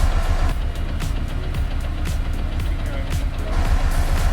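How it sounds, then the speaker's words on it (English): A three-cylinder car engine idles roughly in a garage, giving a steady low rumble with uneven pulsing throughout, fairly loud and close. "The car's running rough."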